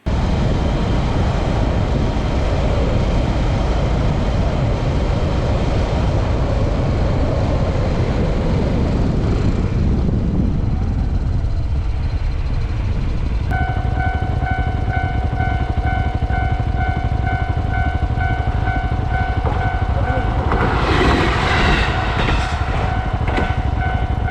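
A train passing near a roadside stop on a motorbike trip in Furano, Hokkaido, a long loud rumbling roar that fades midway, then steady tonal whine and rattling as cars go by, with no talk.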